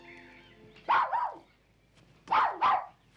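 A dog barks in two pairs of sharp, close barks separated by a short quiet gap, with a faint steady tone in the background before the first pair.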